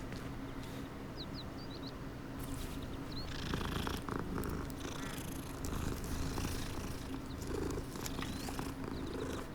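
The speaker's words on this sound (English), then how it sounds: "Oh, hello, kitty." A cat in the Hogwarts Legacy video game purrs steadily and softly through the whole stretch, a low continuous rumble beneath faint ambient game sounds and a few brief chirps, with no speech.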